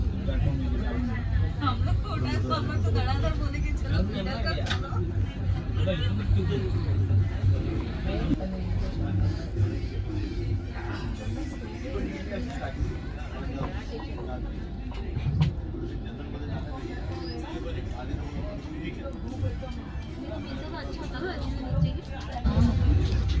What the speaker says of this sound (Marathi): मित्रांनो, पनवेल रेल्वे स्टेशन आलं आहे.